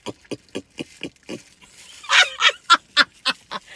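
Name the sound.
person imitating pig oinking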